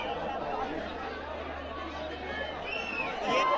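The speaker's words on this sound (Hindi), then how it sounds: "एसी बोगी का नज़ारा देखिए किस तरीके से जो भीड़ है" Packed passengers in a train's AC coach make a constant hubbub of overlapping voices and chatter, with a rise in noise near the end.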